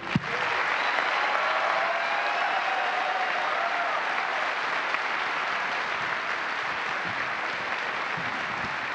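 Sustained applause from an audience at a NASA Commercial Crew Program crew assignment announcement, a dense steady wash of clapping that holds at an even level for the whole stretch with no voices over it.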